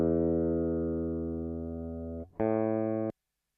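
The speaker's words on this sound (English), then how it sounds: "You also have a built-in tuner." A built-in electronic tuner on a Flamma E1000 intelligent guitar gives a loud, steady harmonic tone that holds for about two seconds, cuts out briefly, then returns at a higher pitch before stopping abruptly.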